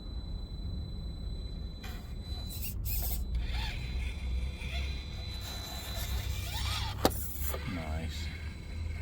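An FCX24 Unimog radio-controlled crawler truck with Injora 64mm Swamp Claw tyres creeps along at very slow speed, its faint whining motor and gear buzz rising and falling close by over a low outdoor rumble, with a few brief clicks.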